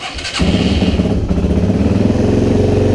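A Yamaha XT225 motorcycle engine starts after a brief crank, then settles into a loud, close, throbbing idle with a steady pulsing beat and slight mechanical clatter.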